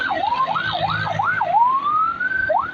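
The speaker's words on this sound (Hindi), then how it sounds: "एम्बुलेंस आ रही है" An ambulance siren wails on a city road, its rising and falling sweeps repeating several times before settling into a long upward glide, fairly clear over low traffic rumble.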